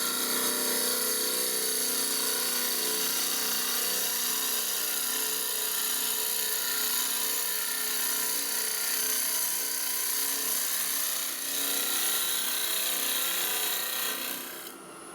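A wooden beehive box spins on a wood lathe while a gouge makes a long continuous cut, giving a loud, steady whirring hiss with a rasping edge that holds evenly throughout before easing off at the end.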